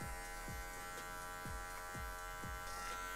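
Electric hair clippers buzz steadily close up while trimming hair at guard setting 1 for a fade, the hum holding constant with a few soft strokes dipping in through the pass.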